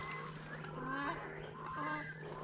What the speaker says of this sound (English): Got the cormorants here,